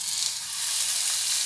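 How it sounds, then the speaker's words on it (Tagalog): Yellow croaker fish sizzling as it goes into hot cooking oil for a braised dish with tofu, a steady loud crackling hiss that holds evenly throughout with no talking. "Mainit na ang ating mantika, so pwede na natin ilagay ang ating isda."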